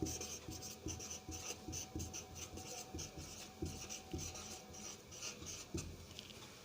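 A pen scratches across paper while writing out a notice, in close, quiet strokes with a steady rhythm of short scribbling bursts.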